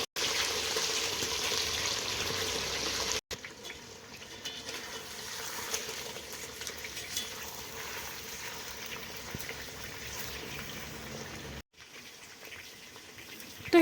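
Chicken deep fries in hot oil with a steady, soft bubbling sizzle that runs throughout, briefly broken by short dips in level.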